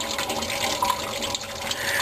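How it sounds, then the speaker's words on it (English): Coolant water drains steadily from the radiator of a 1965 Ford Mustang GT, a continuous close splashing wash that holds even throughout without pauses. "just let the water drain"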